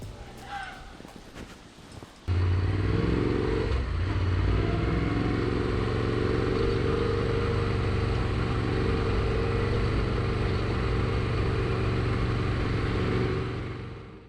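A motorcycle engine starts abruptly and runs steadily nearby at a rough idle and low ride speed on a track at North Head, easing off at the end.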